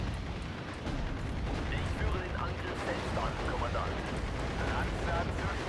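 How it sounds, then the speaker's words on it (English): Artillery strike explosions in the WWII strategy game Steel Division: Normandy 44 form a continuous loud roar of rumbling blasts and bursts, with faint voices mixed in. "That artillery strike definitely helped"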